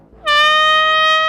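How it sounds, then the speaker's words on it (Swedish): Emergency foghorn alarm signal at a construction site: one loud, sustained, steady horn blast with a strong harmonic tone that starts abruptly and holds for over a second. "Om nödläge inträffar använder vi oss av en mistlur som låter så här."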